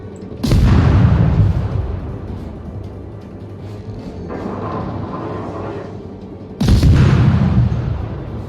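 Two heavy naval gun salvos from a French Tier II destroyer, the Enseigne Gabolde, in World of Warships, each a loud booming blast that rumbles away, with a quieter rolling sound between them.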